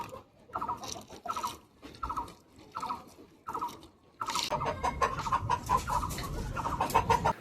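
Chickens clucking at feeding time on a Bangladeshi rooftop, starting with short repeated bursts separated by gaps, then swelling into a denser, louder, continuous flock chorus close by.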